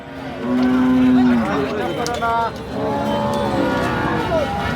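A dairy cow lets out a loud, drawn-out moo nearby, followed by further lower lowing and some background voices.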